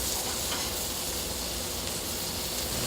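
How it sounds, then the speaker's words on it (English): A pork chop sizzles loudly and steadily in a hot pan, a dense crackling hiss that fills the whole moment. "We have some nice sizzle."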